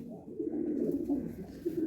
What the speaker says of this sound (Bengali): প্রচণ্ড ছটপটে শিয়ানা পায়রা